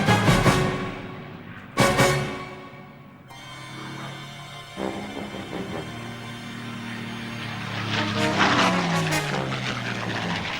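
A British Spitfire fighter plane of World War II fame, flying on bombing and strafing runs, gives a droning propeller-engine roar that swells and fades as it passes overhead. Two sharp bursts come early, then a steady rumble builds toward the end.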